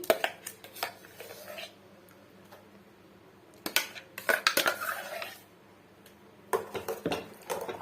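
A spoon clinks and scrapes against a metal vessel while carrot, almonds and cashews are stirred into milk, in sharp bursts of clatter separated by quiet pauses.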